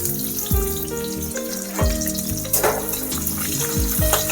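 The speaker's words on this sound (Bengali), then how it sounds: "ওই কড়াতে দিয়ে দিলাম তেল আর এখন কুচিয়ে রাখা পেঁয়াজটাও দিয়ে দিচ্ছি" Chopped onion goes into hot oil in a wok for a village-style fish curry, giving a steady close sizzle and frying hiss throughout, with a few clanks and scrapes of utensils against the metal pan.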